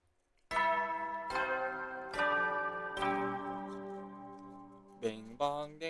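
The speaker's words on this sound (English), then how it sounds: "Bing bong ding dong." A multi-note announcement chime from the video game The Hundred Line: Last Defense Academy rings out as bell-like tones, with four clear struck notes in sequence followed by a quicker pair of shorter tones.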